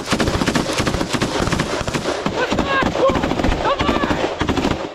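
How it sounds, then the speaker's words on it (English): Machine gun fire in combat, rapid bursts of sharp shots repeating through the clip, fairly close, with voices talking in between. "Here is Gas, working with a machine gun"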